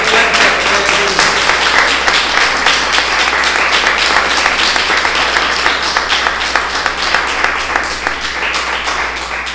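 Loud rhythmic applause from a Messianic congregation at a Passover service, many hands clapping in a steady fast beat that carries on for several seconds and eases slightly near the end.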